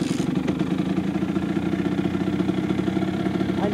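A 2004 Kawasaki KX85 dirt bike engine idles close by with a loud, steady, rapid pulsing throb, holding an even rhythm with a slight lift at the very end.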